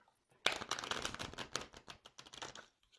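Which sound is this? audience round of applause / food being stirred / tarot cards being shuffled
tarot cards being shuffled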